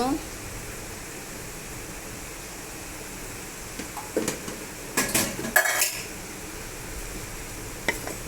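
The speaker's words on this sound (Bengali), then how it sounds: "আমি এখন একটু শাকটা লাড়া দিব" Chopped leafy greens being stirred in a pan with shrimp on a home stove, giving scattered scraping and clinking utensil-on-metal sounds over a faint low sizzle, with short clattering bursts near the end.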